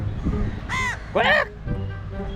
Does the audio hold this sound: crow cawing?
yes